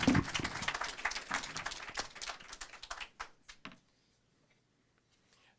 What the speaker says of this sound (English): a round of applause for our health policy analysts